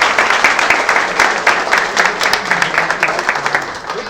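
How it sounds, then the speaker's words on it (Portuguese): Audience applause at a club anniversary gathering of speeches, a dense burst of many hands clapping close by that fades slightly over a few seconds. "peço uma salva de palmas a ele, Marcos Carvalho."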